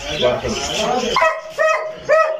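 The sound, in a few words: dog at a dog market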